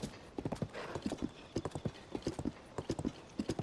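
Horse hooves clip-clop in quick uneven bursts in Zelda: Tears of the Kingdom, loud and close, with a faint whinny mixed in as the game horse moves restlessly.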